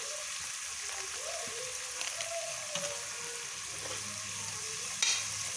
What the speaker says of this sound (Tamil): கரண்டியால் நல்லா வதக்கிடுங்க